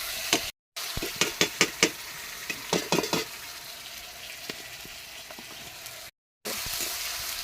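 Onions frying in hot oil for dal: a steady close sizzle, with a run of sharp knocks and stirring clatter early on, then settling into continuous hissing; no one speaks.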